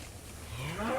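Cattle in a ranch herd moo, a low drawn-out call rising in pitch and growing louder over about a second, heard alone with no talk.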